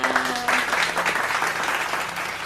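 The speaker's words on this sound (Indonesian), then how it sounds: "Tepuk tangan buat kita semua" A group at a classroom presentation on teaching methods applauds, with dense, even clapping filling the whole stretch and a brief voice near the start.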